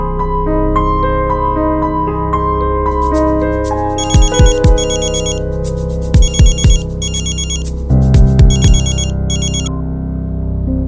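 A telephone ringtone plays loudly as a call is placed, a bright electronic melody with repeated chiming notes and a short musical phrase that changes partway through.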